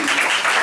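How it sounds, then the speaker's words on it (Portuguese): A church congregation applauds during a worship service: a short, steady wash of many hands clapping together, fairly loud and close, with no gaps. "Vamos aplaudir para o Senhor."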